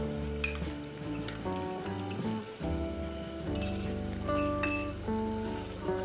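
Metal utensils clink and tap against a pan while sour curd goes into fried masala, a string of light irregular clinks in a home kitchen with steady background music and no talking.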